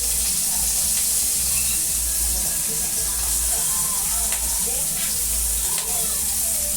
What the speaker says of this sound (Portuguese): nessa frigideira aqui, vou colocar os camarões